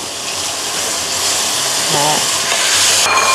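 A loud, steady sizzle of pork stir-frying in a hot pan with coconut milk, with scraping stirring sounds and a voice speaking briefly over it.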